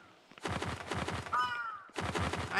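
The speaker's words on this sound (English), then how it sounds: "I don't trust you, crows." Crows cawing in the horror game Yomawari: Midnight Shadows, a run of harsh, rhythmic caws in two bursts with a brief pause and a thin whistling tone between them.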